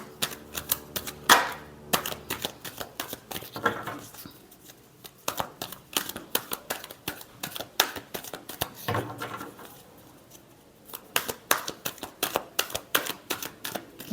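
A deck of reading cards is shuffled repeatedly at close range, giving rapid, crisp riffling flutters in several bursts separated by brief pauses and soft handling sounds.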